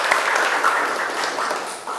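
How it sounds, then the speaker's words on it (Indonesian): Steady clapping from a classroom group fills two seconds at a constant, moderate level with no voices over it. "Tepuk tangan."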